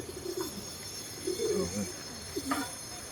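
Flyer pigeons perched on power lines give soft, low cooing calls in a few short bursts, close by against a steady background hum.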